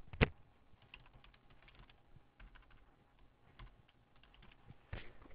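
Keys clatter on a computer keyboard in quiet, scattered bursts with a few sharper, louder taps at the start and end, close and faint, with no voices.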